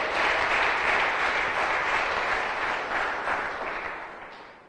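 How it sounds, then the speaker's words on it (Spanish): A church congregation applauds in a steady, dense wash of clapping that fills the space, holding strong before gradually fading toward the end. "Dale fuerte aplauso a nuestro gran Rey de Reyes."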